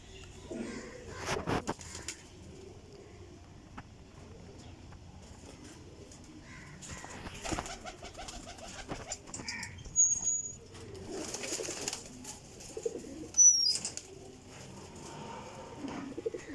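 Pigeons in a loft of high-flying birds coo in low, soft rolls, broken by sudden bursts of wings flapping nearby, while people talk quietly at intervals.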